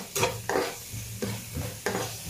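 Onions frying with salt in a pan, a soft sizzle broken by four quick spatula scrapes stirring at a regular pace, close and without talk.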